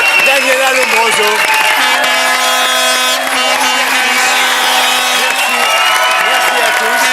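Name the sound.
audience applause for Daniela Lombroso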